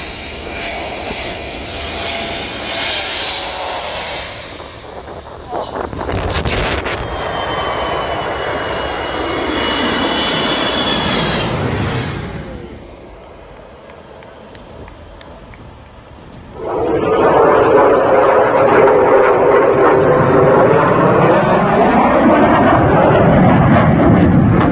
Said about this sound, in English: an Airbus A321 aircraft descends toward the runway at Skiathos Airport